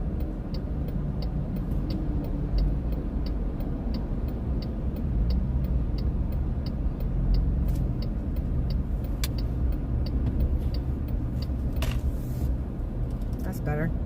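Steady car engine and road rumble from inside a vehicle crawling through traffic slowed by a wreck on the way to Atlanta, with faint ticking of a turn signal and a continuous low drone.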